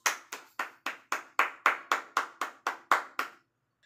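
A classroom of students claps in applause, about a dozen crisp, evenly spaced claps that form a steady rhythm, close and moderately loud, then stop abruptly.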